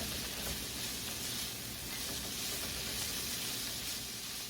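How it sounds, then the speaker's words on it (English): Red pepper flakes sautéing in a pan, with a steady, even sizzle and hiss that holds without a break, fairly faint and heard alone. "We'll get this in here, saute this all up."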